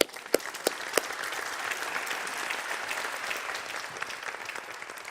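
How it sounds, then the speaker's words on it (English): An audience applauds a speaker at a Commercial Space Transportation Advisory Committee meeting: a few sharp claps open into steady, full applause that holds evenly for several seconds, with no talking. "So let's have a warm round of applause to Dr."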